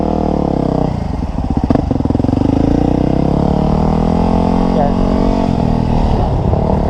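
A Kawasaki WR250R motorcycle runs steadily and close by in a parking lot, its engine holding a continuous mid-pitched drone with a brief surge near the start, while a rider talks over it.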